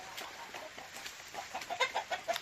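Backyard chickens cluck in a few short, close calls that grow louder and more frequent toward the end, heard without any talking during snowy spring weather.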